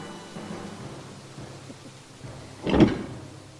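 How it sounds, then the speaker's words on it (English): Steady rain hisses through a video game scene, then a single loud rumble of thunder breaks out near the end and fades away. "Well, the rain will take care of that!"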